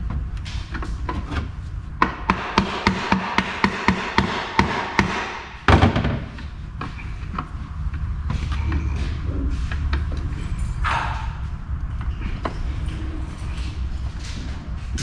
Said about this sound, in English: Come in with a little pry bar.